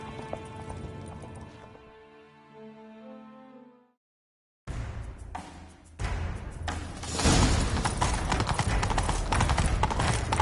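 Horse hooves pound in a fast galloping rhythm after a brief silence, loud and close, growing denser with clattering and rushing movement, in the video game The Witcher 3.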